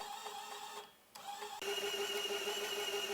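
A homemade CNC machine driven by small low-power optical-drive stepper motors whirs and whines in steady tonal runs, pausing briefly before starting again louder, with no talk.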